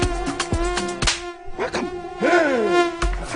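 A mosquito buzzes in a news segment, a thin whining drone that persists across the whole clip, rising and bending in pitch. It is layered with tonal musical or electronic sounds and sharp percussive hits.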